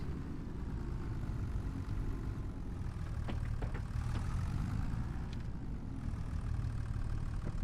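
Tractor engine idling in Farming Simulator 25, a steady low rumbling drone running throughout with a few brief clicks and knocks layered over it, no talk.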